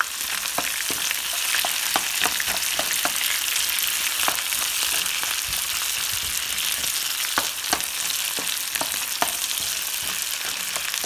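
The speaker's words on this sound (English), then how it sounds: "I'm going to add in the curry leaves, onion, chilies into the pan" Curry leaves, onion and chilies fry in a pan for chilli pork, a loud continuous sizzle with frequent popping crackles and soft stirring knocks scattered throughout; no voices.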